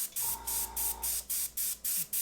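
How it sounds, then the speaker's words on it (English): An airbrush sprays paint in short, evenly spaced hissing bursts, about nine in a row, close and steady, with a faint low hum underneath. "I don't have the issue so much with it spraying as I do with cleaning the airbrush afterwards"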